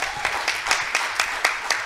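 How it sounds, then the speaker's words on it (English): Presenters at an HIV and adolescence conference session receive applause: about eight distinct, evenly spaced claps, fairly faint and regular, with no talking over them. "A round of applause for our presenters."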